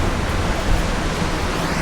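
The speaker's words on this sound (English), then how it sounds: "See a little water pouring through." Water pours through a river lock and dam, heard from above as a steady, dense, hissing rush with no break and no voices.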